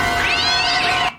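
A cat in a movie gives one loud, clear, rising-then-falling meow, close up and on its own, ending abruptly.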